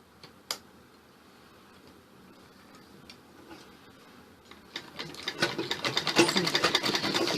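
Sewing machine stitching an A-line suit, quiet at first with a few isolated clicks, then starting up around five seconds into a rapid, close, steady ticking run of stitches.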